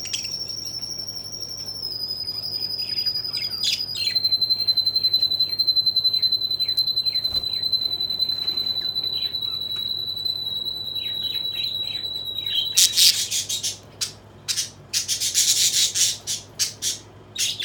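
Baby budgies give raspy, insistent calls that build into a loud, rapid burst of harsh begging chirps near the end, over a steady high whine and faint background chatter.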